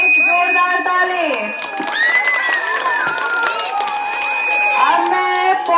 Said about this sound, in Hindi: आदित्य के लिए एक जोरदार ताली।